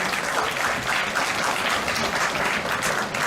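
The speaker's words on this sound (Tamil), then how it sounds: "நிச்சயமாக அவருக்குத்தான் நீங்கள் கரகோஷம் எழுப்ப வேண்டும்" Audience applause fills a hall at a sixtieth-birthday celebration for a radio station owner, steady dense clapping throughout with no break.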